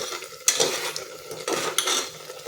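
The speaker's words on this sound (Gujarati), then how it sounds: "દૂધ બળી જાય ત્યાં સુધી આપણે એને હલાવવાનો છે।" Carrot halwa simmering with milk in a pot over a full gas flame, stirred with clanking metal against the pot in a few distinct scrapes and knocks over a steady background, no voices.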